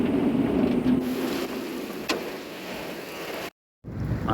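Heavy rain pours in a dense, steady hiss, with rushing water as floodwaters begin to flow in the Al-Ardiyat area of Saudi Arabia. One brief louder crack is heard partway through, and the sound cuts out briefly near the end.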